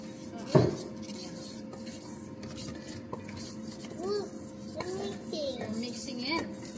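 Someone stirs ingredients in a bowl during home cooking, after cornstarch has gone in and before flour. A spoon taps and rubs steadily against the bowl with a sharp clack near the start, and a voice and other voices chatter over it.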